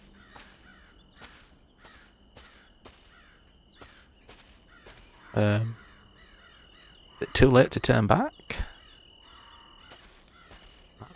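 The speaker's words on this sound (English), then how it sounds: "That bird in the distance" Bird cawing in the Ghost Hunters Corp video game, a crow-like call that sounds faint and far off, with a few short calls under quiet speech and ambient game sound.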